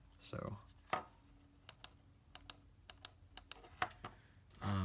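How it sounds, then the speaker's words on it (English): Tactile buttons on a car dashboard are clicked by hand, a string of sharp, crisp clicks at uneven intervals in a quiet interior, with a brief voice at the start and a louder voice at the end. "This is like a basic button, whereas this click is a lot more tactile feeling"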